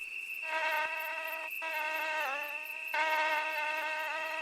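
A mosquito's whining buzz hovers close and steady for several seconds, its thin pitch wavering slightly as it moves, with no other sounds around it.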